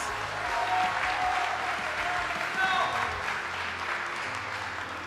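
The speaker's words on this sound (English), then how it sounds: "Send them to the line with the biggest applause you can have." Audience applause at a world shooting championship for men's 10m air rifle standing, sustained dense clapping from a crowd at steady loudness, with voices faintly mixed underneath.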